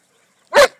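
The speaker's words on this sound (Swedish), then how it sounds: "Du ska inte skälla på honom." A single short dog bark, loud and close, bursting out after a moment of silence.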